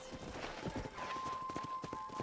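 Faint horse hooves clip-clop in an uneven walking rhythm in the video game Red Dead Redemption, set against a low steady background hum and a thin sustained tone.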